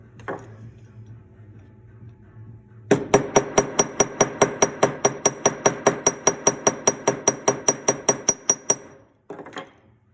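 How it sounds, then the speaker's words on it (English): A small hammer strikes a jewellery hinge wire in a steady run of about thirty sharp metallic taps, evenly spaced and close, after a quiet lead-in and followed by a couple of faint knocks. "Do a bit more hammering."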